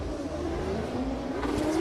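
BMW drift cars launch from a start line at a drift competition, engines revving hard in a steady, rising mechanical drone at moderate distance, with no voices.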